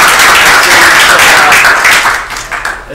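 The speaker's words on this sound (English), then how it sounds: "give yourselves a round of applause" Audience at Tandy Assembly, a retro computer convention, claps and cheers in a dense, steady burst of applause that holds strong and then begins to thin out toward the end.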